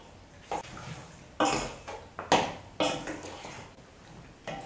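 Meat and oil stirred in a metal cooking pot produce a series of irregular scraping clinks and knocks, about seven distinct spoon strikes spaced roughly half a second apart, moderately close with quiet gaps between.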